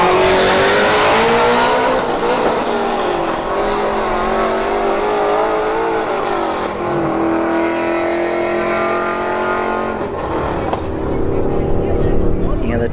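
Ram T-Rex and Shelby GT350 launching side by side at a drag strip, engines roaring loud and close with rising revs and tire squeal, the roar shifting pitch as they pull away, with announcer-style talk over it.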